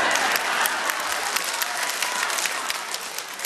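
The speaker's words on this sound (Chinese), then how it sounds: "绝不辜负大家的掌声" A concert audience claps loudly and steadily at a Beijing show themed on the children of Yan'an, a dense even applause that fills the whole stretch without any gap.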